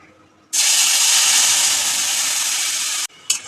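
Tamarind extract is poured into a karai of hot oil tempered with dried chili, setting off a loud, sharp sizzle that hisses steadily for about two and a half seconds, stops suddenly, then flares briefly once more.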